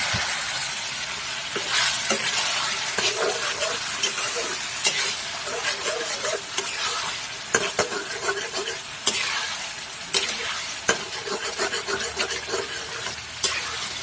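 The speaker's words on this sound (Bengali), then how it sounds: "এখন মশলার সঙ্গে মাংসটা ভালো করে কষে নিচ্ছি" Chicken pieces sauté in a spice masala for chicken curry. A continuous frying hiss carries under repeated stirring scrapes and sharp spatula knocks against the pan, with no clear speech.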